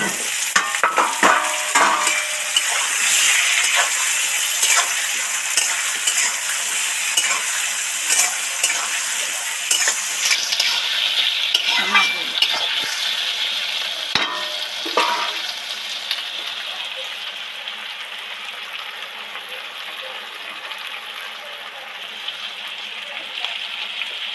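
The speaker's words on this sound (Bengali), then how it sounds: "পেঁয়াজ টমেটোর মধ্যে আলুটা দিয়ে দিচ্ছি" Diced potatoes stirred into onion and tomato in a hot pan give a loud, steady sizzle with scraping stir strokes, growing slightly softer after a while; no talking.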